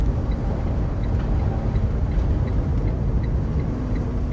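Steady low drone of a motorhome cruising on an American highway with its engine brake engaged, a constant rumble of engine and road noise with wind, no voices.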